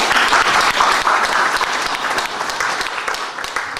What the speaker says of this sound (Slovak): takže potlesk poprosím